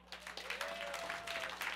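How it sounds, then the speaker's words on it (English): Audience applause at a stand-up comedy show, a steady wash of clapping lasting under two seconds, with a faint tone running beneath it. "by show of applause, how many of you people have ever been pulled over by the cops?"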